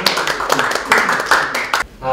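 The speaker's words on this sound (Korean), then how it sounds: "큰 박수 부탁드립니다" An audience at the 2021 Korea Student Aid Foundation essay and UCC contest awards ceremony claps for a prize winner, a lively burst of many hands that stops abruptly before a presenter speaks.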